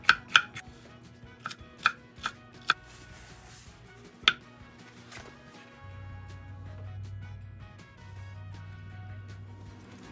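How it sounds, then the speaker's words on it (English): A knife chops red and green bell peppers on a cutting board in a handful of sharp, uneven strikes, then gives way to a low steady hum. "Now let's medium chop our red bell pepper and also our green bell pepper."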